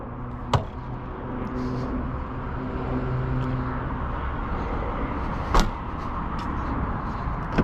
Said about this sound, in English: Power trunk, which is nice.